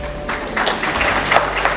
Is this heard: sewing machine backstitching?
no